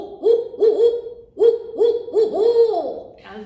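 A woman imitates a barred owl with her voice, giving a series of rhythmic hooting calls in rising and falling phrases, loud and close, with no other talk.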